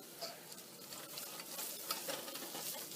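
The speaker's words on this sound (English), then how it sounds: "So, coming back to our frying onions." Onions sizzle and crackle steadily in a hot pan, a dense frying hiss with small pops and an occasional stir, no voices.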